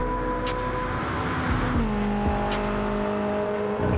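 A naturally aspirated BMW race car in Gran Turismo 7, its engine holding a loud sustained tone that drops in pitch midway, with a steady whine and faint tire noise, close and continuous.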